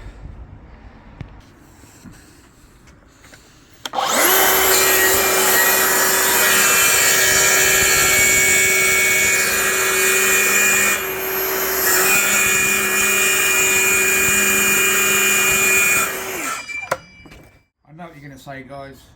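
A power saw rips timber into lengths for a small storage cabinet, with a loud continuous whining cut lasting about twelve seconds and a slight dip partway through, between quieter workshop sounds at the start and end.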